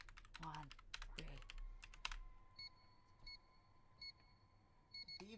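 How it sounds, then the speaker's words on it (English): Loud electronic keypad beeps sound as a numeric code is entered, a few evenly spaced short tones over a steady hum, following brief talk at the start. "Beeps are so loud."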